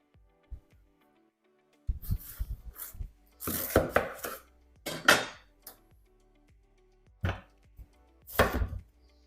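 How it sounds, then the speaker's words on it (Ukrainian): A knife chops through a firm, not fully ripe watermelon on a board, several irregular thuds and crunching cuts in short bursts with quiet gaps. "І зараз буду нарізати кавунчик."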